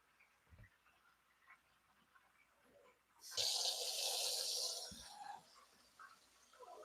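Tap water runs over cooked spaghetti to rinse and cool it at a kitchen sink, a quiet few seconds with small clinks, then a loud steady rush for about two seconds that eases into trickles.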